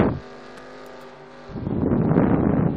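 Race cars in a NASCAR video game roll out of pit road at Yas Marina, a steady engine drone that swells into a louder, rougher roar of several cars accelerating together partway through.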